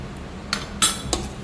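A spoon clinks against a bowl three times in quick succession while jhal muri ingredients are mixed, each contact sharp and close over a quiet background.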